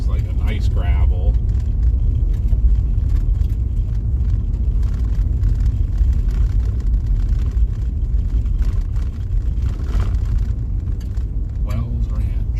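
Storm chasers' car rolling over a washboard gravel road in rural central Nebraska, a loud constant low rumble and cabin roar with steady vibration throughout, people talking over it.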